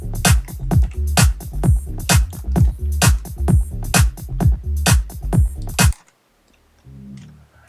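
A tech house groove of driving kick, bass line, snare and clap pounds in a tight repeating rhythm for about six seconds, then cuts off abruptly into near silence.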